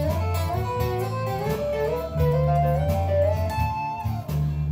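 Electric guitar phrase played over a backing track, with sliding notes and double stops gliding upward through a continuous, steady passage, no talking.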